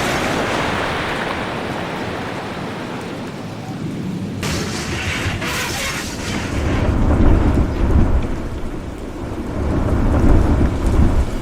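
Heavy rain pouring steadily during a night thunderstorm, with a sharp thunder crack midway followed by deep rolling rumbles that swell and linger.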